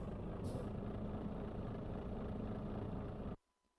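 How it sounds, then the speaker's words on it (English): A truck engine in the Euro Truck Simulator 2 driving game drones steadily at a rough, even pitch, then cuts off abruptly near the end. "Does that engine sound horrible? Even from the outside."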